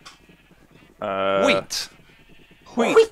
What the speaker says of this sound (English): Let's unleash the sheep.